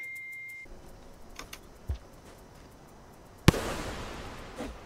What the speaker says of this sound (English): You just exploded.